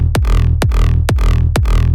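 Four layered big room kicks strike at an even, steady pace, each a loud punchy thump with a long booming low tail and a bright clicky top, heard alone without other instruments.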